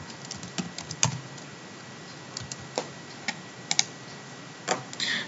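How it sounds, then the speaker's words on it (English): Light, sparse keystrokes on a computer keyboard while entering building details into a form, quiet and close, with irregular clicks and small bursts separated by pauses. "I have finished typing in some properties I know about the building"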